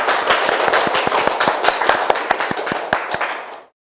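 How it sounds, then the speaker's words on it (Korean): An audience claps loudly after a lecture by an Olympic gold medalist coach at a youth digital camp, a dense, fast burst of many hands that keeps going before cutting off sharply. "네, 다들 다시 한번 큰 박수 부탁드립니다."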